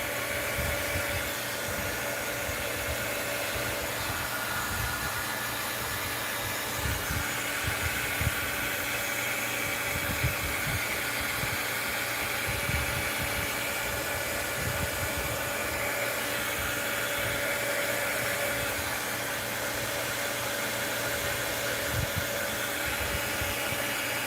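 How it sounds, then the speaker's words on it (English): A heat gun blows hot air over a crafting surface while flattening bottle caps and melting crayons, giving a loud, steady, close whooshing drone that runs unbroken throughout, with no speech. "I have to have the heat gun over it and it gets in your way"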